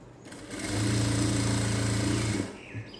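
An electric sewing machine stitches a princess-cut blouse in a short steady run, its motor whirring up, holding a loud even buzz for about two seconds, then winding down.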